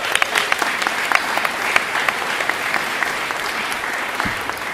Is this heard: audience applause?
yes